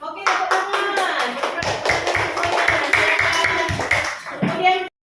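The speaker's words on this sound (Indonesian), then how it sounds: "Oke, tepuk tangan." A school class claps their hands in a quick, fairly even rhythm of loud close claps lasting several seconds. Children's voices can be heard during the clapping.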